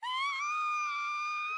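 A girl's scream in the horror game Corpse Party, a single sustained high-pitched shriek that holds steady and loud for over a second and a half, heard alone.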